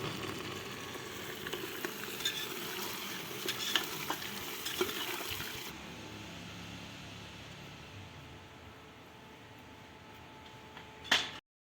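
Onions frying lightly in a pan for a potato and onion dish, a soft steady sizzle with scattered spoon taps that grows quieter midway and ends with a sharp clack.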